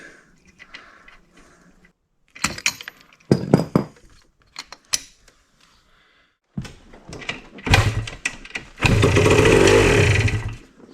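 A 1983 Yamaha IT 175 dirt bike engine kicked over after gas is squirted into the spark plug hole, giving scattered mechanical clatter and brief pops that end in a loud, sustained rough burst near the end.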